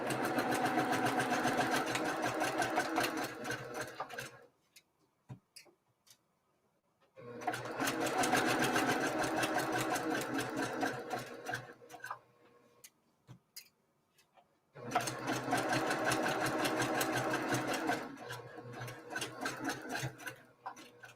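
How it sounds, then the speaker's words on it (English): A Brother PQ 1500 straight-stitch sewing machine runs in three steady bursts of rapid stitching, each a few seconds long, separated by short quiet pauses with faint handling noises. "this is the Brother PQ 1500. This is a straight stitch machine"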